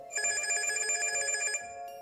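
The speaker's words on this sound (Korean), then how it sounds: "동훈의 전화였다." A telephone rings in a horror radio drama, a loud, steady electronic ring trilling continuously for about a second and a half before cutting off, with no voices.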